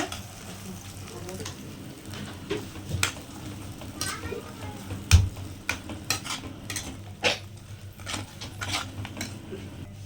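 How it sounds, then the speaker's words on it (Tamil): Fenugreek seeds fry in a pan for an okra tamarind curry and are stirred with a utensil, giving repeated clinks and scrapes over a low sizzle while someone talks. "நல்லா பரட்டி விட்டுருங்க"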